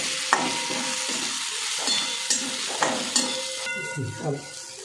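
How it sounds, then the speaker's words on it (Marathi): Spice masala of turmeric, coriander powder and homemade black chilli powder is sautéed in a pan for a traditional mixed vegetable bhaji, giving a close sizzle with repeated scraping stirs and clinks of the spoon. "आता ना छान असं परतून घ्यायचं आहे आता याला"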